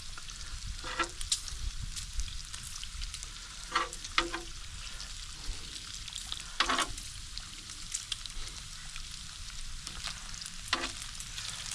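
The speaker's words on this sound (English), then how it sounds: "cooking some bacon" Bacon fries on a Blackstone griddle with a soft, continuous crackling sizzle, punctuated by a few brief scrapes and taps of a utensil at irregular intervals.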